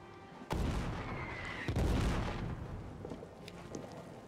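Artillery fire in the WW1 trench warfare game All Quiet in the Trenches: two heavy booms land about a second apart, each rolling into a long rumbling decay, followed by fainter distant thuds, with no talking.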